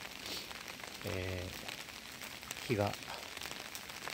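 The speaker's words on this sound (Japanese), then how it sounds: "ちょっとこんな雨になってしまったんですけど" Rain falls at a Buddhist temple in Kai, a faint steady hiss outdoors beneath someone speaking in Japanese.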